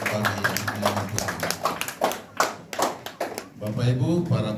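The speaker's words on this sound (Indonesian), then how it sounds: "Mari kita tepuk tangan untuk jemaat dan beri kemuliaan bagi nama Tuhan." Congregation clapping at a church dedication, irregular bursts of hand claps mixed with voices, close and moderately loud.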